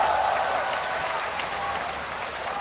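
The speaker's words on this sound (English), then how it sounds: "Just listen to the crowd." A large esports arena crowd at a League of Legends All Star 2013 North America versus Europe match applauds and cheers in a steady, dense wash of clapping that runs the whole time without letting up.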